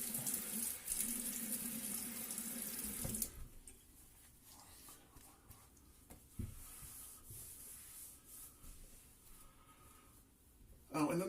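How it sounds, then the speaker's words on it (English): A bathroom tap runs steadily for a rinse after a straight-razor shave, a close, hissing stream that stops abruptly, followed by quiet handling noises and a brief resumption of water at the end. "do a quick rinse off"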